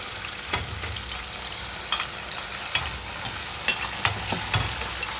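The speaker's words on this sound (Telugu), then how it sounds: "ఇప్పుడు ఇందులోనే చింతపండు గుజ్జు మొత్తం వేసేస్తున్నాను" Tamarind pulp goes into a hot pan of oil with the stove just switched off while making bitter gourd pickle, giving a steady loud sizzle and frying hiss with several sharp stirring clicks and scrapes at intervals, no talk.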